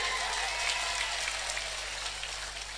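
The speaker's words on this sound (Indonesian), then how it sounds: "Ini lho tepuk tangannya sampai kaya ngono kuwi lho" An audience at an Islamic lecture claps together, a dense, even wash of applause that keeps going at a moderate level from start to finish, with no voices standing out.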